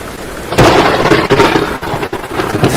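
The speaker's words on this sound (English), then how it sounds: "The lightning strikes are happening like between my words, so it's like perfect." Rolling thunder from lightning strikes during a Talespire tabletop session, a loud broadband rumble that swells at once and holds steady with a few sharper cracks, heard alone.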